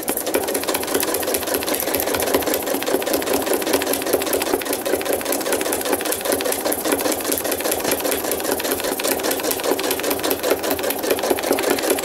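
Sewing machine stitching zigzag thread art from a photo, a fast, even mechanical chatter of needle strokes running continuously and close for the whole stretch.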